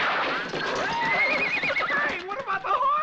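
Horses whinny in a shrill, wavering call over the clip-clop of hooves, loud and busy, with voices mixed in throughout.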